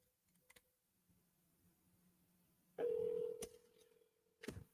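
A phone call on a business line gives faint ticks and a soft hum, then a loud steady electronic tone breaks in about midway, followed by sharp clicks and a final burst.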